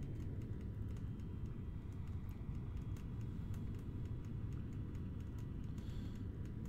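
Boeing 707 reverse thrust roaring steadily after touchdown on an icy runway in Flight Simulator X, a loud continuous low rumble that holds without pause from start to end.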